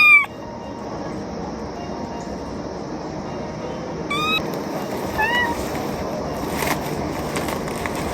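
A pet cat named Bulu meows a few short times at home, once at the start and twice more around the middle, over a steady background hum.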